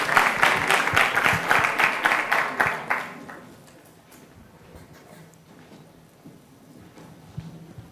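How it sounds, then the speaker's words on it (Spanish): Rhythmic, fairly loud audience applause at a university debate contest in Spain, welcoming a speaker, pulsing briefly before fading to a quiet room with small stray noises. "Por favor, un aplauso para Alberto González."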